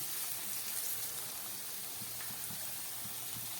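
Potatoes fry in oil in a pan over low heat, giving a steady, dense sizzle with a constant hiss and small pops scattered throughout, close and even with no voices.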